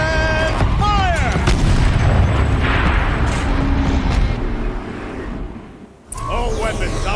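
A turret cannon fires in the video game Horizon Zero Dawn with heavy, loud booms and a rumbling roar that fades before a fresh burst, while a voice is heard at the start and end.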